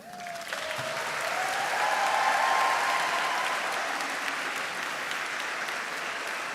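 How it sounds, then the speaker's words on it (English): A crowd at the Boston College 2025 graduation claps in sustained applause that swells to a peak and then slowly tapers off, with no voices over it. "I would like you to applaud me across the stage"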